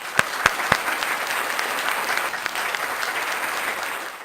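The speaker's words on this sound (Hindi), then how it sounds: "जहां जोरदार तालियों के साथ हम उनका स्वागत करें" An audience at a Hindi poetry gathering welcomes a poet with loud, sustained clapping, opening with a few sharp individual claps before settling into a dense, even wash of applause.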